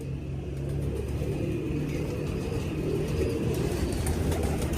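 Pigeons at a breeding loft, among them a bird numbered 72, coo softly amid low rumbling background noise that runs throughout.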